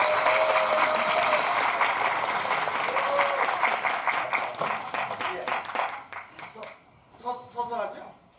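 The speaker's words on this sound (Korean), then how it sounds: "박수 주시죠." A studio audience at a live Korean political talk broadcast breaks into loud, sustained applause that fills the room, then thins out and fades near the end as a voice begins speaking.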